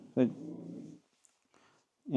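A dog growls low and rumbling in two short bursts separated by a brief quiet gap, close to the microphone, during a session on aggressive greeting behaviour.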